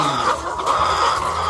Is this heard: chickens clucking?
yes